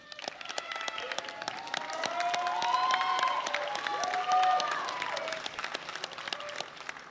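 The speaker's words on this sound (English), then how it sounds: "I want you to give them a round of applause" Audience at a high school graduation ceremony applauds steadily for about seven seconds, a dense wash of clapping from a large crowd with scattered cheers and faint voices rising and swelling in the middle before tapering.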